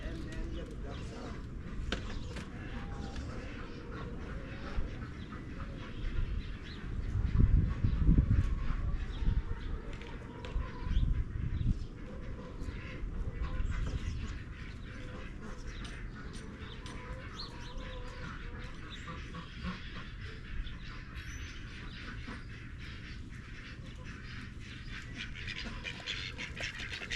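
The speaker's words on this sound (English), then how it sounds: "then get the ducks out" Farm ducks and chickens quack, cluck and chirp in a busy, continuous mix, loudest briefly near the middle and otherwise moderate, with a person's talk mixed in.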